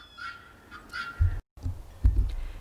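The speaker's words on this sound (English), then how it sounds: "My guineas are going completely crazy." Guinea fowl call excitedly in a garden, a few harsh rhythmic cackling bursts at moderate distance, with some low thumps nearby and a brief dropout, no speech.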